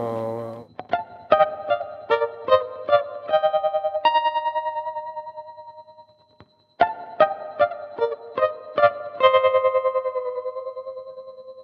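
Choppy, palm-muted electric guitar chords struck in a quick rhythmic pattern, each stab ringing briefly through an effects unit, with a pause midway.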